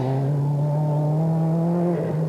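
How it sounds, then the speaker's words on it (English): A rally raid buggy races at the 1994 Tunisia Rally Raid, its engine holding a loud, steady, close drone that rises slightly in pitch before dipping and settling again. "That's the buggy of Jérôme Rivière"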